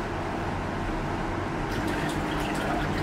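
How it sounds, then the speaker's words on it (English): A small cardboard indoor waterfall trickles and splashes steadily, a continuous close-up wash of running water with no voices over it. "Turning on the waterfalls."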